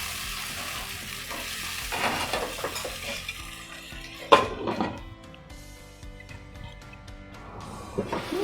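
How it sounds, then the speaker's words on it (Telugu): Tomato puree is stirred in a pan for masala pasta, with a soft sizzle under scraping spoon strokes and a sharp clank of utensil against metal midway, plus intermittent clinks. "ఇదిగోనండి టమాటా ప్యూరీ వేస్తున్నాం ఇందులో. ఇంత బాగా కలిపి ఉడకనిద్దాం."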